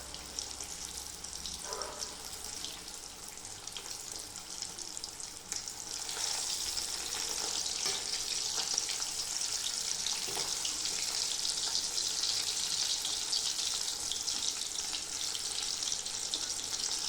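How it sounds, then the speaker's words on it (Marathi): Fish sizzles in a pan over low gas flame, a steady hissing fry that swells louder partway through and continues unbroken to the end, with occasional faint clinks. "हे झाले आपले मासे फ्राय."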